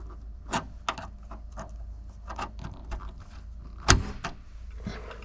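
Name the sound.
remote central locking actuator locking a classic car door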